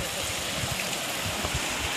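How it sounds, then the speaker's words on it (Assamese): A river flowing beneath a rope suspension bridge in Bhutan, a steady rushing wash of water heard as continuous broadband noise, fairly loud and close, with no voices. "এইফালে এইটো নদী বৈ গৈছে"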